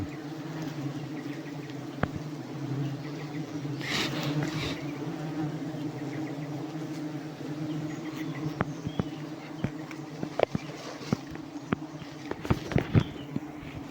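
A giant wild honeybee nest taken in the forest, with bees buzzing steadily and densely close by, a continuous insect drone broken by brief sharp knocks and handling sounds.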